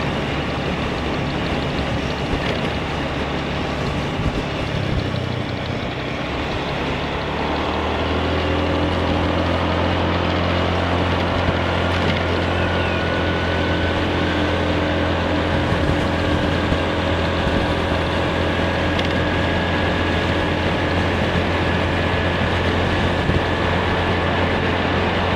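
Honda Scoopy i scooter riding along a road, its small engine droning steadily near and loud, with a rise in pitch as it accelerates before settling into an even cruising hum.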